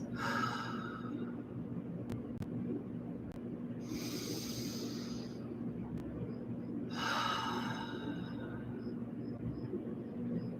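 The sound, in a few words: deep breathing, slow exhales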